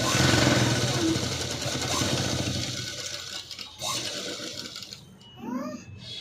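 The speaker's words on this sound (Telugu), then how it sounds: "మళ్ళీ కుట్టు పక్క నుంచి డబల్ స్టిచ్ చేసుకోవాలి." A sewing machine double-stitches a kajal patti with hooks, a rattling mechanical whir that runs loud at first, then fades and breaks up into short bursts near the end.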